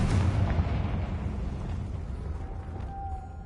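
Confringo explosive spell blast in the Hogwarts Legacy video game: a single deep, heavy boom hits at the start and rolls off into a long rumbling decay, with no talk over it.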